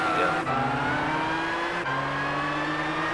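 A Volkswagen GTI Roadster in the Gran Turismo 6 racing game drones with a steady, loud engine note that climbs in pitch, dips briefly at two gear shifts, and climbs again, with no talk over it.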